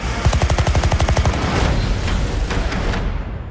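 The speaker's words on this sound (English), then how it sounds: "They've opened fire on journalists." Rapid bursts of automatic gunfire from a war-film trailer, a fast rhythmic volley of close, loud shots lasting over a second, followed by scattered single shots and booming impacts beneath a dense roar.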